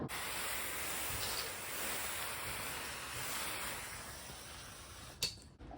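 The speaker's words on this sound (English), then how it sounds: "I sprayed it with water" Water sprayed onto a car's painted body coated with Shine Armor graphene ceramic coating gives a steady, close hissing spray that swells and eases, then stops sharply near the end with a brief knock.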